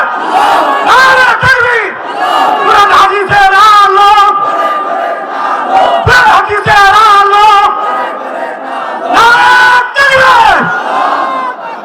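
A large crowd at a Bangladeshi waz sermon roars a takbir response in repeated loud, rhythmic bursts, with a leading voice calling between the waves of massed chanting.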